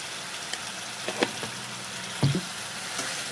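Turmeric and spices sizzle in hot oil in a pan, a soft steady frying hiss broken by a few brief pops and stirring scrapes.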